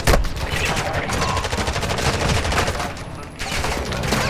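AI enemies shooting at the player in Call of Duty's Al Mazrah map, fast overlapping gunshot bursts that stay loud and close throughout, with a short dip near the end before the firing resumes.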